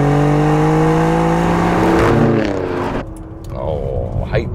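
Alfa Romeo Giulia Quadrifoglio engine on a country road, a loud rising drone that climbs through the revs, then drops away sharply as the car passes and recedes.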